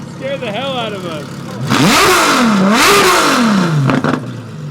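A modified LaFerrari with an aftermarket exhaust revs hard and close: an idle rumble rises into two loud sweeping revs that climb and fall, ending with sharp crackles.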